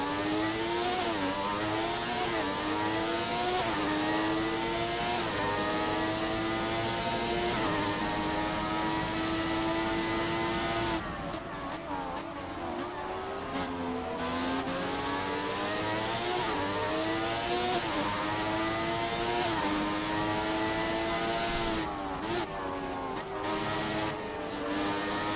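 Formula 1 cars from the F1 2017 game, a Williams and a Ferrari, scream past at race pace, their high engine notes rising and falling through gear changes and overlapping as they run close together, loud and unbroken.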